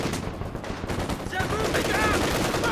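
Sustained gunfire from a multiplayer World War shooter match, a dense rattle of automatic bursts running throughout, fairly loud and continuous with no clear pauses.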